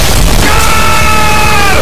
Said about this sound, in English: Needs more explosion!